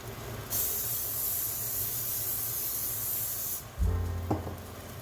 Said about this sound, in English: I'm just going to spray the bottom with olive oil cooking spray